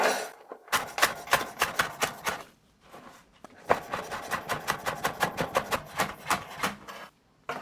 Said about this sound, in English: finely chop some fresh chives and add them straight to the bowl